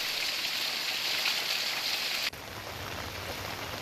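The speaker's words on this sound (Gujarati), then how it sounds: "2 કલાકમાં 2 ઇંચ જેટલો વરસાદ ખાબક્યો હતો" Heavy monsoon rain pouring down in Virpur, Mahisagar: a dense, even hiss of downpour that drops abruptly to a softer, lower wash partway through, steady and without voices.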